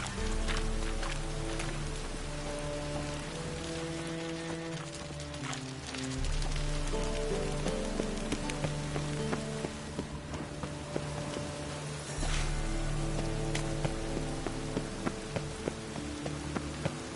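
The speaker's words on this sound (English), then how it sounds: "Rain again." Steady rain patters across the ground in the Witcher 3 game world, a soft constant hiss with scattered drops, joined by low hoofbeats and ambient background tones.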